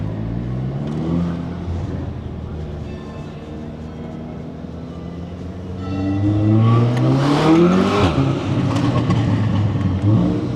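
A straight-piped Audi S3 in central London drones loudly, then revs and accelerates hard with a rising, raspy exhaust roar, heard from inside the car with faint speech beneath.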